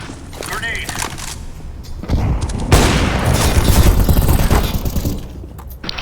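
A grenade explosion and gunfire in Counter-Strike (CSGO) on a desert map, a loud boom followed by dense rapid shots, with players talking over it.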